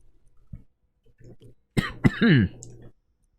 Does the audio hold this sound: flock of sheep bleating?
no